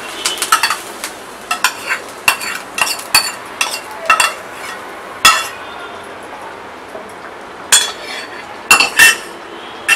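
A spoon stirs and scrapes through spinach and lentil gravy in a metal cooking pot, giving irregular clinks and knocks against the sides, close and fairly clear with no talking.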